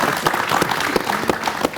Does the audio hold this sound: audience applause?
yes